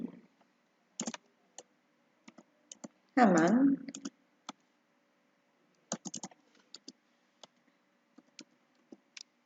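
Scattered keystrokes on a computer keyboard come in short irregular bursts of clicks, with a brief spoken word partway through and quiet gaps between the taps.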